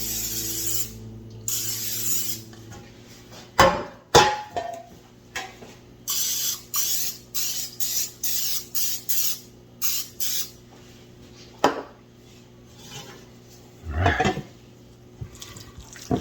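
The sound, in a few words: non-stick cooking spray being sprayed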